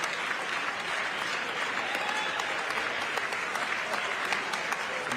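Steady applause fills a joint session of Congress during a presidential address, a dense crowd clapping continuously at moderate level with a faint murmur of voices beneath.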